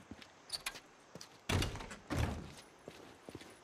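A door in the Days Gone video game, with two heavy thuds that seem close, set among scattered lighter knocks and clicks over a quiet background.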